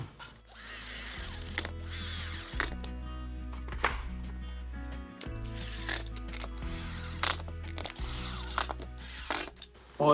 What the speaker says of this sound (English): I'll attach the base with the 1¼ inch Kreg screws.